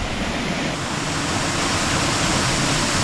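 Heavy rain pouring down with a waterfall rushing in a Blue Mountains forest in Australia, a dense, steady broadband wash of water that stays loud and unbroken throughout.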